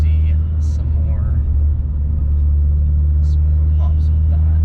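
A 1.8T VW Beetle with a catless 3-inch turboback exhaust idles with a loud, steady low drone and deep rumble throughout, with faint higher chirps over the top.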